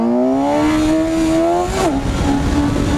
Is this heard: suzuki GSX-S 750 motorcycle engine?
yes